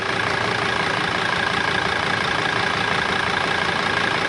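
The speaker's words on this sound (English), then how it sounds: "This is how an engine should sound." A Mercedes Sprinter's 2.7L diesel engine idles close by with a steady, even drone and a faint rhythmic clatter, unchanging throughout with no talk over it.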